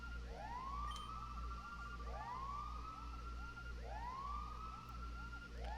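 A looping siren-style alarm in the video game Pokémon Colosseum, rising sweeps repeating about every one and a half seconds, steady and fairly quiet over a low hum, with no talking.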